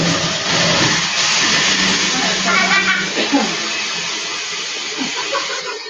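A Ninja blender runs in a home kitchen, its motor a steady, loud whirring hiss throughout while people talk over it.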